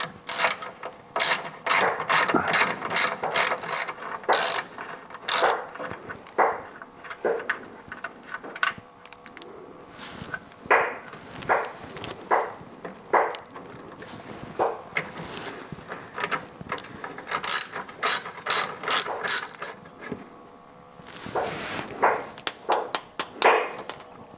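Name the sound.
ratchet wrench removing 9/16 nuts and bolts on 1967 Corvette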